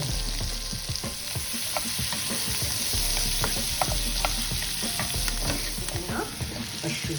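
Finely chopped onion sizzles in butter in a pan as a constant, moderate hiss, punctuated by repeated utensil scrapes and taps while it is stirred, with no one talking.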